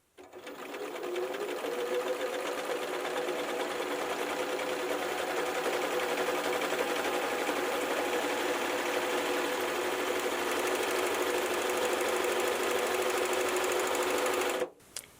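A serger sewing machine stitching with a short stitch length, running as one continuous loud, even mechanical whir close up for about fourteen seconds before stopping abruptly.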